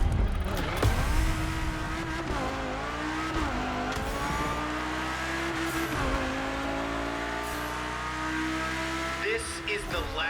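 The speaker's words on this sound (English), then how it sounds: "And that engine sound good as fuck." Revving car engine and squealing tires in The Crew Motorfest racing game, a loud sustained roar with rising and falling pitch sweeps and gear changes throughout, a few sharp squeals near the start and end.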